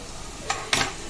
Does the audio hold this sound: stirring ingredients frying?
yes